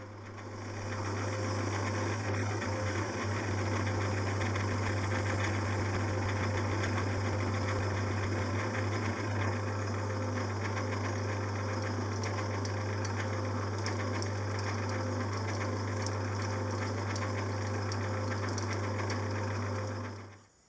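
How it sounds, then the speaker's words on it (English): Lathe running steadily as a 1/2 inch reamer passes through a cylinder casting for a Stuart Progress oscillating engine, a continuous, even mechanical hum with a strong low drone throughout, no talking. "Finally we go in with the 1/2 inch reamer."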